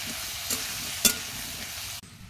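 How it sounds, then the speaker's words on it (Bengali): Potatoes frying in oil with salt and turmeric, stirred in the pan, a steady close sizzle broken by two brief scraping strokes before the sound cuts off, with no one speaking. "এবার একটু লবণ হলুদ দেওয়া হয়ে গেছে, একটু নাড়াচাড়া করে দেবো।"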